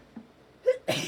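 A single sneeze from a woman during a casual morning chat, with a small intake breath before and a sharp, loud burst at the end, close to the microphone.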